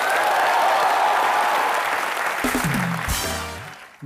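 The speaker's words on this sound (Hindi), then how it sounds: "जोरदार तालियां बनती हैं एक बार" Loud studio audience applause on the Comedy Nights With Kapil set rolls for a couple of seconds, then thins as a tonal musical sting with sliding notes takes over near the end.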